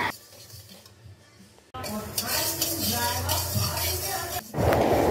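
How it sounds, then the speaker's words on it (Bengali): Moong dal being dry-roasted in a wok for khichuri, first a quiet stretch, then loud scraping and stirring of the dry lentils with metallic clinks against the pan. "তো কড়াইতে মুগ ডালটা একটু খালি খোলায় ভেজে নেব"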